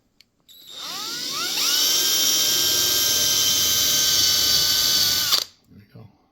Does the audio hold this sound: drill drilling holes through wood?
yes